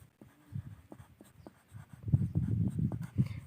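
A pen or pencil scratches across a paper worksheet in short quiet strokes, close by, building into a denser patch of writing toward the end.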